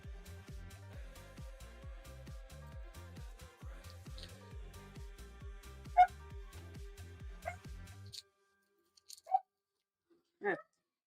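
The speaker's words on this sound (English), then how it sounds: "Sorry if you hear my puppy in the background." A puppy gives a few faint yips, barks and whimpers in the background, scattered through the clip and half lost behind a steady rhythmic mechanical hum before it stops.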